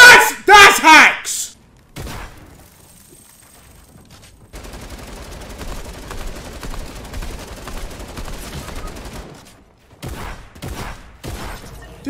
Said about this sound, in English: This guy did not miss a shot on me.